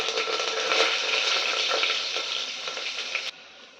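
Onions, green chillies and curry leaves frying in oil for chicken biryani, a loud dense hissing sizzle that holds steady and then drops sharply near the end.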